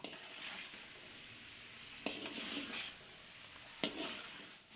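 Garlic sizzles on its own in a frying pan, a steady soft crackle punctuated by two sharper spatters, moderately quiet and close, with no voices.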